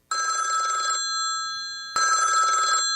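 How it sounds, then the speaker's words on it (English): A red telephone, the hotline for a four-star general or the President, rings loudly in two long electronic bursts separated by a second of silence, with no talk. "When this red phone rings, a 4-star general or the President of the United States is supposed to be calling."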